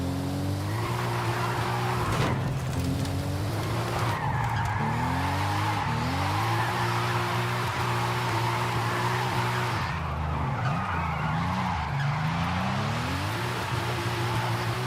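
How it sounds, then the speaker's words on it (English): Car engine in Forza Horizon 5 misfiring, with the power cutting out: a loud, continuous engine drone whose pitch drops and climbs unevenly, broken by stuttering dips and tyre skids. "I literally don't know any other car that misfires like that."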